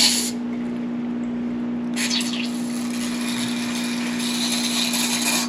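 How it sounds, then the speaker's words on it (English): A spray bottle squirts two short bursts and then a longer one while rinsing out a glass beaker, close and fairly loud over a steady electrical hum. "let's give this a spray down"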